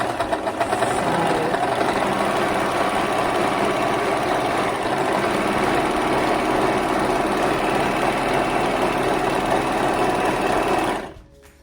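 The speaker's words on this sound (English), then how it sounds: "The beauty of an overlocker is that it actually cuts and neatens at the same time." An overlocker runs steadily for about eleven seconds, cutting and neatening a fabric edge with a fast, even mechanical whirr, then stops abruptly at the end.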